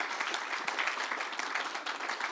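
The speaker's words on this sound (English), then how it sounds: "would you please give a round of applause to our panelists who've done such a great job?" An audience gives panelists a round of applause at a Texas policy summit session on trade. The clapping is thick and sustained, a steady roar of many hands from a large room, with no voices over it.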